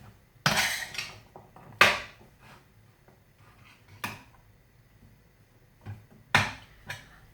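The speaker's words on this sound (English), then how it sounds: "And you're just going to start mixing onions into the beef." A utensil scrapes and knocks against a pan while minced beef and onions are mixed together, giving a few sharp, separate clanks and scrapes with quiet gaps between them, close by and without talk.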